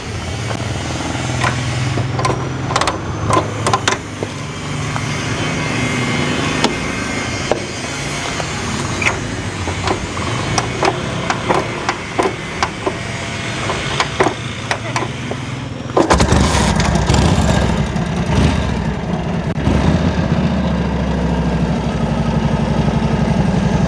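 An old Harley-Davidson motorcycle is kick-started several times with a series of sharp mechanical thumps. Its engine then settles into a steady, loud, close idle, with a person talking at times.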